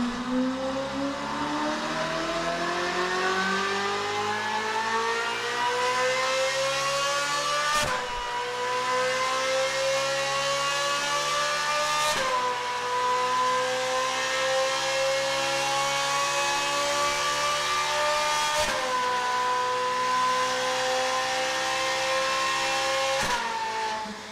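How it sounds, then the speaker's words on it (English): A high-revving Ferrari 458 Italia V8 with an aftermarket Novitec exhaust screams up through the gears in long rising sweeps, loud and close, with brief breaks between each pull. "this is what it can sound like with the proper exhaust."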